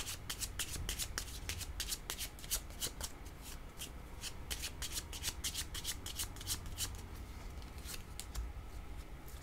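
Tarot cards being shuffled by hand in a rapid run of crisp flicking riffles, close and quiet, continuing steadily without speech.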